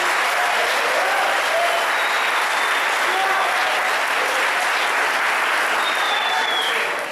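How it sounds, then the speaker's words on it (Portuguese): A church congregation in Itaberaí, Goiás applauds loudly and steadily, a dense wash of clapping that fills the whole stretch without letting up. "Então dê um aplauso bem forte ao Senhor aí."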